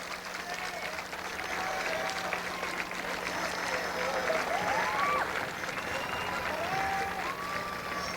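Outdoor crowd applause along a 1992 St. Patrick's Day parade route in Belmar, New Jersey, as veterans march past; steady clapping and crowd noise run the whole time, with occasional whistle-like tones and faint voices.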